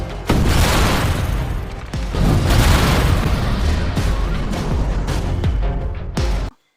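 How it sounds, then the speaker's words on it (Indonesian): A film scene where a special team blows up a gang hideout with the people inside: loud, sustained blast and rumbling debris lasting several seconds, cut briefly near the start and again near the end. "Akhirnya, tim sus pun meledakkan markas Taegu beserta orang-orang yang berada di dalamnya."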